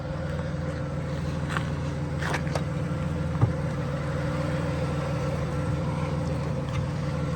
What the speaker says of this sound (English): we'll walk around with the engine running